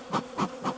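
Bees buzz at the front of a hive at night in three quick swells, each rising and fading within a fraction of a second, close by and fairly soft.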